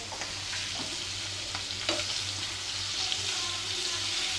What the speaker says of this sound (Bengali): এদিকে মাছ ভাজা হচ্ছে, আজকে রুই মাছ দিয়ে রান্না হবে।